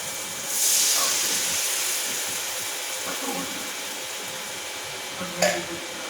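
Meat drops into a hot pan and sizzles at once, a loud broad hiss that rises quickly and then settles into a steady softer sizzle, with a brief clatter near the end.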